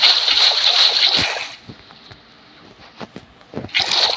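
Water pours and splashes in Minecraft from a bucket, a bright hissing gush for about a second and a half, then fading to quiet with a few soft clicks and a final splashy burst.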